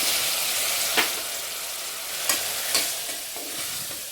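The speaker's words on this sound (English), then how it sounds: "I am adding 2 teaspoons of ginger garlic paste. Saute well." Ginger garlic paste sizzles steadily as it is sautéed in a hot pan, with a few sharp stirring scrapes standing out over the constant frying hiss.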